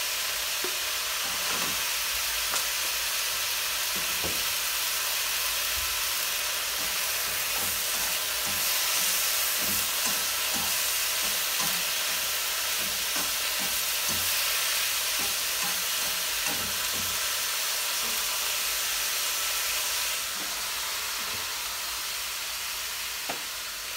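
Winged beans stir-fried with beef in a hot pan, a continuous loud sizzle with scattered clinks and scrapes of stirring throughout, close and steady, with no talking.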